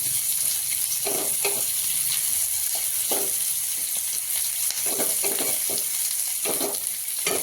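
Vertically sliced onion fries steadily in hot oil, a continuous close sizzle with occasional stirring scrapes, for a green mutton masala paste.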